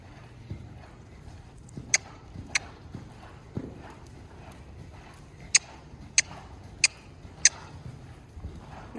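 Horse hooves clip-clop at a canter during a show-ring warm-up at a horse trials event, sharp regular hoofbeats landing in a steady rhythm, moderately close over low background rumble.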